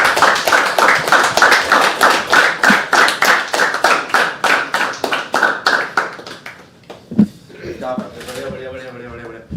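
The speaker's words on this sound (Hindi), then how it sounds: "एक बार जतिन भाई के लिए जोरदार तालियां" An audience at an open mic poetry night in Mumbai applauds after a reading, a dense burst of clapping that swells and then thins to scattered claps before a voice speaks over the fading applause.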